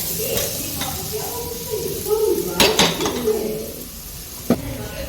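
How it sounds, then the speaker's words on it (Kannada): A spoon mixes cooked rice into raw mango gojju inside a metal vessel, giving scattered scraping and clinking knocks, with a cluster of louder clanks near the middle and one sharp tap toward the end, close and moderately loud. "ಈ ಪಾತ್ರೆಗೆ ಹಿಡಿಯೋಷ್ಟನ್ನ ನಾನು ಅನ್ನನ್ನು ಹಾಕಿ ಕಲಿಸ್ತಾ ಇದ್ದೀನಿ"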